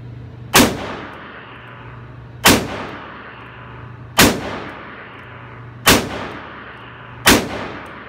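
Five loud gunshots from a Smith & Wesson 625 revolver, spaced about one and a half to two seconds apart, each a sharp crack with a ringing decay over low background hum.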